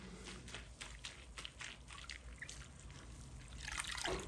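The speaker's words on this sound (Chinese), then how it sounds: "银耳搓好，再花2遍清水洗干净就可以啦" Tremella fungus being rinsed by hand in a bowl of clean water, a steady close splashing and trickling that swells louder near the end, with no talking.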